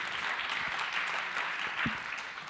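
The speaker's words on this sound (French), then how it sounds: "merci de l'applaudir" Audience applause at a French round-table conference on digital health, a steady dense clapping that fills the room, with a brief voice breaking through near the end.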